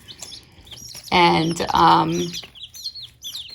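Week-old Barred Rock and Cochin chicks, including Frizzle Cochin bantams, cheep in quick high peeps, with a louder burst of chirping in the middle and a brief spoken word early on.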